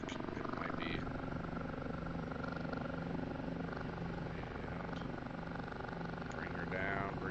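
Continuous rotor thump and turbine whine of an OH-58D Kiowa helicopter in flight in the DCS combat simulator, steady and loud throughout, with a few faint clicks and cockpit tones near the end.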